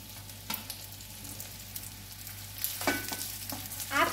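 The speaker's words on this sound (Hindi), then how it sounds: "अब सारे स्नैक हम इसमें पलट देंगे।" Sabudana idli snacks are tossed into a pan with roasted sesame seeds, making a faint background sizzle with scattered clatters and scrapes that grow busier and louder toward the end.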